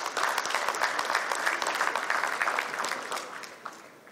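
Audience applause fills a conference hall during an insurance panel session, a steady wash of many hands clapping at moderate distance that gradually thins and fades toward the end.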